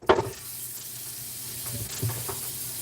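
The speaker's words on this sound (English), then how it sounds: "we're going to sear our meatballs off" Meatballs made without egg searing in a hot pan, giving a steady low sizzle and hiss with a brief louder crackle at the start as they go in, then continuing evenly.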